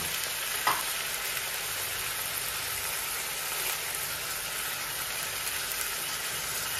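Tomatoes and turmeric fry in a pan for egg tomato curry, making a continuous close sizzle with an occasional utensil tap and soft stirring; no voices.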